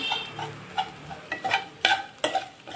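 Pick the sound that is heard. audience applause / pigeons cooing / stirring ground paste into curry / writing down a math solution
stirring ground paste into curry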